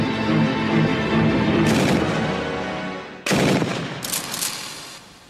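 Bursts of heavy gunfire from a Kord 12.7 mm machine gun, several loud, close sharp reports with echoing decay, firing in irregular clusters.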